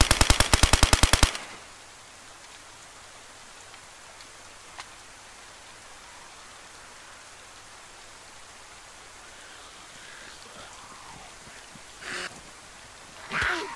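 Rapid burst of automatic gunfire in the video game DayZ, about a dozen sharp loud shots in quick succession at the start, then a quiet rain-like ambient hiss with a couple of faint thuds.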